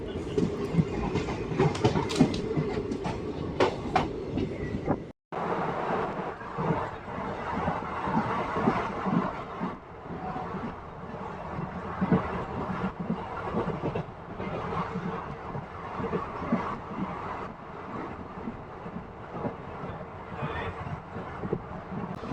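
A passenger train runs at speed between Kadiri and Mulakalacheruvu on the Dharmavaram–Narasapur route, a steady loud rumble of wheels on rails with rhythmic clatter, continuous throughout with one brief dropout near the start.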